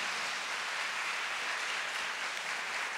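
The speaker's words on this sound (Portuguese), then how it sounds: "Aplauda a palavra de Deus, vai." A church congregation applauds after a Bible reading, a steady wash of clapping sustained throughout without pause, moderately loud and filling the room with no talk over it.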